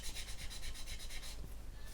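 Sanding stick worked through various grades over a plastic bulkhead on a 1/200 Trumpeter Bismarck model, giving a close, faint, steady rhythmic rasping in quick repeated strokes that trail off near the end.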